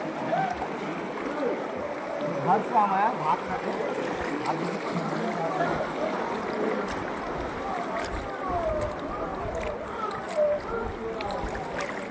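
Floodwater rushes through a breached river embankment at Panskura in 2024, a continuous broad roaring wash with occasional splashes, while voices talk nearby over the flow.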